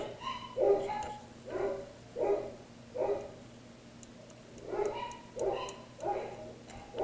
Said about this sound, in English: now you're gonna hear my dogs bark